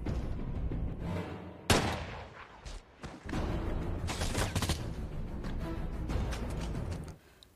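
Gunfire erupts in a cartel shootout from the action film The Marksman, with loud, sharp bursts and overlapping shots over a dense, booming soundtrack that cuts off near the end.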